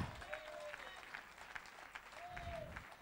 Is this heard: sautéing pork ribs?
no